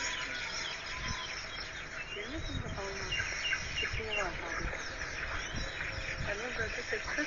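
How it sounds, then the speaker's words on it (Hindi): Many birds chirp and tweet at once in a dense, ongoing chorus, fairly faint and a little distant, over a steady outdoor hum. "बहुत ज्यादा चहचहाने की आवाज आ रही है।"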